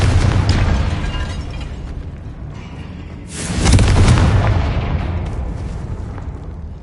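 A fiery Confringo spell bursts in Hogwarts Legacy, with an initial rumble, a sharp crack and a roaring boom that swells and then fades away slowly, loud and without any voices.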